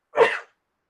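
A single short, close sneeze bursts out abruptly and fades within half a second, leaving silence.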